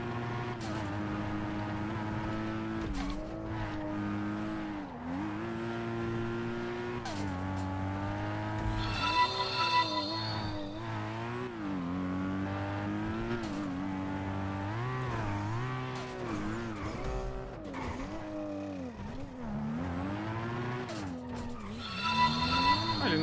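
Race cars in the GTA RP video game, a street race in the valley, with strong sustained engine tones rising and falling through gear changes and occasional tire squeal, loud and continuous with no talk.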